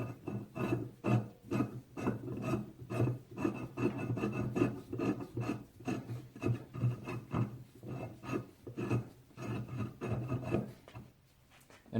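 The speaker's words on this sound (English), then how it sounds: "Let's run a tap in there and see what they look like then." A hand tap is worked into 1.5 inch pipe threads on a seized pipe fitting, giving repeated quiet metallic rasping and scraping strokes in a steady rhythm, close up and alone.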